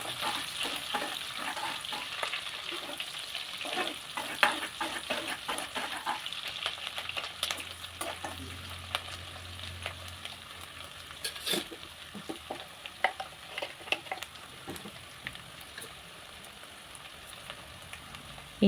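Onions and dried red chillies fry in a pan for chicken biryani, giving a steady close sizzle and crackle with scattered pops and stirring scrapes throughout, no voices.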